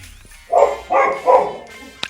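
A pet dog barks indoors, three distinct close, loud barks in quick succession, followed by a faint sharp click at the end.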